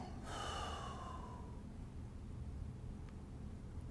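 One long, deep exhale during a relaxation breathing exercise for stress and anxiety, a close breathy rush at the start fading into quiet background hiss.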